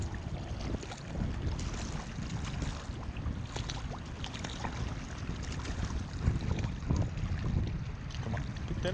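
A fishing boat motor runs continuously at a steady low rumble, mixed with wind buffeting and water splashing around the hull, fairly loud throughout with no speech.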